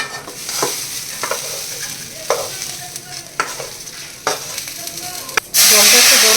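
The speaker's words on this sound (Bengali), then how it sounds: "ডাল চাল মশলা টশলা দিয়ে পুরো ভালোভাবে কষে গেছে" Rice, mung dal, green peas and spices fry in a pan with a steady sizzle, broken by spatula scrapes about once a second, then a sudden loud burst of hiss near the end.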